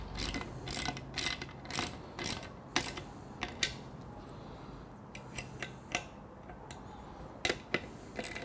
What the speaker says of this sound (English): hold the screw, tighten the nut with a 10mm socket.